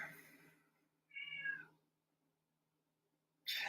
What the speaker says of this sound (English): my cat's mad about something